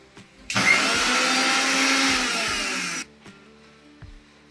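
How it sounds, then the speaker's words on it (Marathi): A kitchen mixer grinder whirs loudly in one sustained burst of about two and a half seconds while grinding for vada pav, then cuts off, leaving a few light clicks and knocks. "5 मिनिटात हे आपण मिक्सर मधलं काढून घेऊ"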